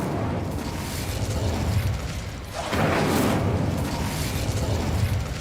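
Incendio fire spell cast in Hogwarts Legacy, a dense rushing burst of flame that swells into a sustained roaring whoosh, loud and close, with no speech over it.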